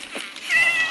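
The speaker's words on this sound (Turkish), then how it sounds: "Burada bir kedi var." A cat meows aboard a ship, a single drawn-out call rising near the end of a short moment, fairly close and clear over faint background noise with no talk.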